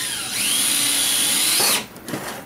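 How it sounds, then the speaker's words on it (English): A power drill whines steadily as it bores through a plastic bucket, loud and close with a sustained high pitch, then cuts off abruptly and leaves a short rattling tail. "Right before it actually goes through the bucket, I'll drill it backwards"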